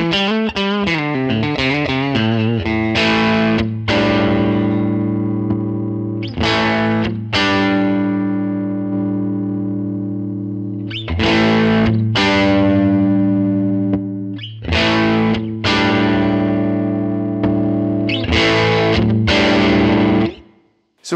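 Distorted electric guitar played through a Line 6 Helix Legacy Tube Comp with the threshold turned down, loud sustained chords and riffs with brief pauses between phrases, alone without talk.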